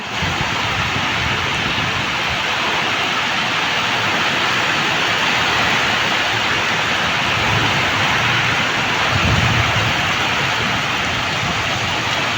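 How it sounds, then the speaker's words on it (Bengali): Heavy rain pours down steadily at night, a dense continuous roar close to the microphone with no clear thunderclap standing out. "অনেক জোরে বৃষ্টি হচ্ছে"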